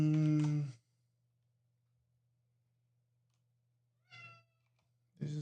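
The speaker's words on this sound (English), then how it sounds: "This is a cat." A domestic cat meows near the mic, one clear meow at the start and two shorter ones later, separated by quiet stretches over a faint steady electrical hum.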